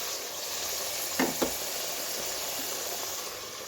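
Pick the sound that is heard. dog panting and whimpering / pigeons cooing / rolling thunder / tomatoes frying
tomatoes frying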